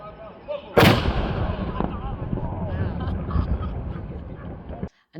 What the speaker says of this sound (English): They're going to shoot off this cannon in a few minutes.